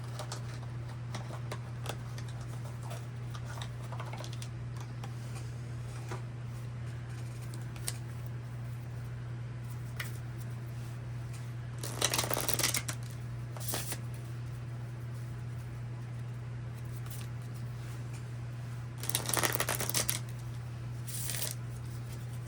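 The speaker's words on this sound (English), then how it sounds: "Let's shuffle the clarifying cards here" Tarot cards are shuffled quietly over a steady low electrical hum, with faint scattered flicks and two louder riffling bursts near the middle and end.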